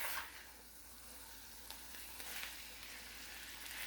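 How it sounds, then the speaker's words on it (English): Onions sizzle softly in a pot as they cook down and caramelize for a French onion pot roast, a steady faint crackle with small pops and no talking. "we're just going to cook the onions until they become really nice and, caramelized, softened, translucent"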